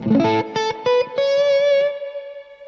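A vintage 1950s original electric guitar played through distortion and effects: a few short chord stabs, then a sustained note ringing out and slowly fading, loud and close with no voices.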